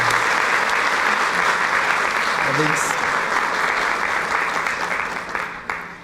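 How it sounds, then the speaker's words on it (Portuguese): A church audience gives a round of applause, thick, continuous clapping that tapers slightly toward the end, with a voice briefly calling out over it. "Uma salva de palmas para vocês."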